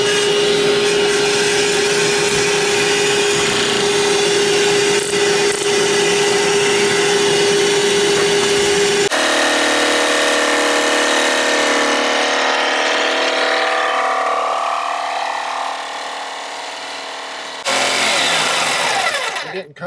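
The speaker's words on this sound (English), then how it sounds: "Here goes the sawing." A power saw cuts into a Leopard 48 catamaran's helm panel while fitting a Raymarine Axiom Pro display, a loud whining motor with a steady tone, then changing pitch as the blade works and stops.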